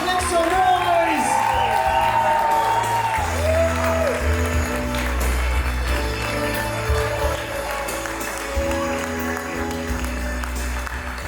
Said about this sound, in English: round of applause, make some noise!